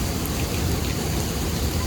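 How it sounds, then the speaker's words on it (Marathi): Heavy monsoon rain pours at Kondeshwar Temple near Badlapur, a dense, steady hiss of falling water, close and unbroken, with no voices. "कोंडेश्वर मंदिरातून आता निघताना पाऊस चालू आला"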